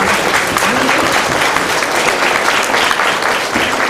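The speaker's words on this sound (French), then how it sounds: "on peut s'applaudir tous ensemble" A large audience applauds at a Téléthon charity evening, steady dense clapping filling the room at full strength throughout.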